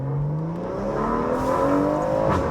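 Tuned BMW M140i engine revving up after a downshift, a rising, fairly loud drone heard from inside the car with the window dipped.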